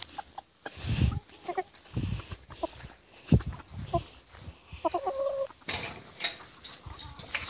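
A chicken clucks and squawks in bursts while someone tries to catch it, with scuffling and movement noise around it at close range.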